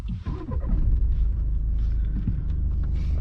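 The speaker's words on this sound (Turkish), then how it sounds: "Aracı çalıştıralım buradan" An Audi A3 Sportback 1.6 TDI diesel engine cranks and catches, then settles into a close, steady low rumble at idle.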